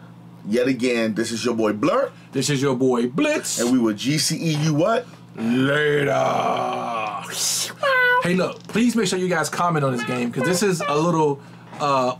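A cat meows repeatedly in the video game Stray, the short tonal cries heard under almost constant commentary from players talking over the gameplay.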